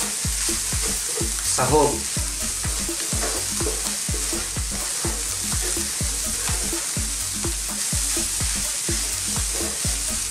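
Chicken spring roll filling with cabbage is stirred in a frying pan: a constant sizzle under a regular beat of spatula scrapes and knocks about twice a second, close by, with a brief spoken word.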